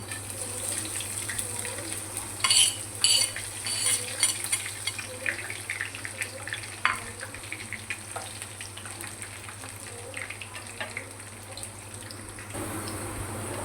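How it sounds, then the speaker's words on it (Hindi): Steady sizzling and crackling of spices frying in hot oil as a tempering for moong dal, with occasional stirring clatter and a low constant hum underneath, no talking. "इसका हम अब तड़का लगाने लगे हैं, और ऑयल हमारा गर्म हो चुका है"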